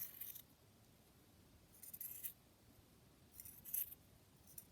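Scissors snip through a thin strip of lace a few times, short crisp metallic cuts spaced apart, quiet and close with no talking.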